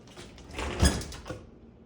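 A small sliding back door on a house rolls open with a single swelling rumble and scrape that peaks near the middle and then eases off, with no one talking over it.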